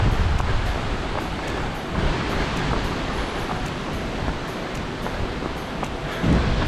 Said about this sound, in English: so can you hear that wind?